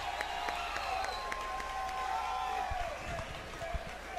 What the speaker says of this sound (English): Let's give your champion a huge round of applause.